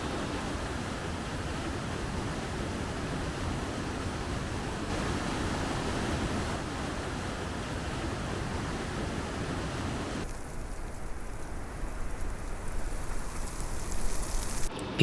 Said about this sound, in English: The sound of the water rushing over the rock created a peaceful backdrop for our hike